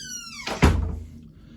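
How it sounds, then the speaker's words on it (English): An office door is pushed shut with a single solid thunk, preceded by a brief squeak, fairly close and alone in a quiet room. "Let me shut the door."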